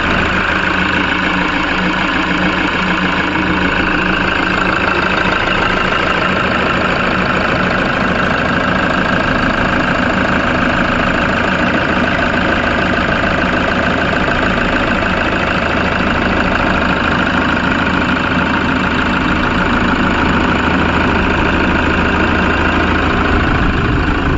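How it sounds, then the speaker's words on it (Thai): The original engine of a used van idling steadily with the air conditioning running, a loud, even, continuous drone with a faint knocking texture and no voices throughout. "ฟังเสียงเครื่องยนต์ครับ"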